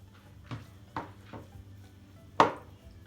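Spoon stirring kısır, a bulgur salad, in a bowl: a few soft, spaced scrapes and taps, then one sharper clack near the end, with no talking.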